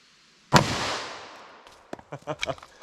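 A single loud .357 Sig gunshot fired through quarter-inch MDF into a ballistics gel block cracks sharply and rings off with a decaying echo, followed by a few faint voice fragments.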